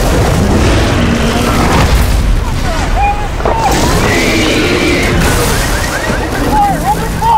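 A heavy grenade blast in Gears of War 4 booms and then rumbles on loudly and continuously, with soldiers' shouted voices partly buried in the roar.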